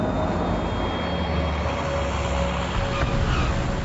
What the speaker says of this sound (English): These cargo planes are demonstrating their specialty,